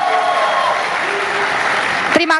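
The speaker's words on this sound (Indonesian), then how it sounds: "terima kasih atas tepuk tangannya" An audience at a televised 2014 Indonesian vice-presidential debate applauds steadily, a broad wash of clapping under a brief voice, ending with a few sharper claps.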